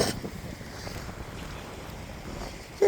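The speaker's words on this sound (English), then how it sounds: "And it is quite windy, there's a northerly wind" A northerly wind on a beach beside a calm sea, blowing steadily in a broad, even rush with low buffeting on the microphone, near and continuous for the whole stretch.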